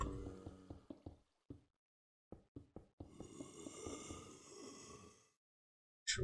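Water sources placed in the corners of an iron farm in Minecraft: a run of short blocky knocks and taps, then a few seconds of steady flowing water swell, ending with a final tap, all close and without talk.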